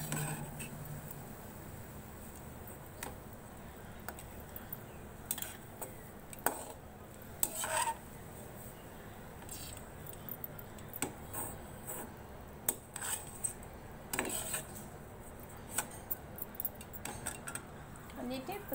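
A spoon scrapes and clinks against a pan while scooping out fried onions for goat trotter soup (attukal soup), with scattered metallic scrapes over a low background hiss and speech in between.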